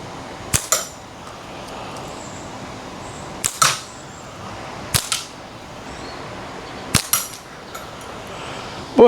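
Slingshot shots strike a horseshoe spoon spinner target outdoors, sharp snapping impacts arriving every second or two, several followed by a quick second knock, over a quiet background.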